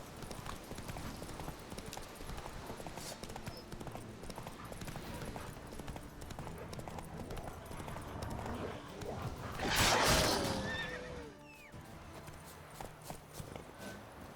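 Rhythmic horse hooves clip-clop steadily over a busy soundscape in The Witcher 3: Wild Hunt, with a brief louder whoosh and rising squeal midway as a wolf attacks, before the hoofbeats continue.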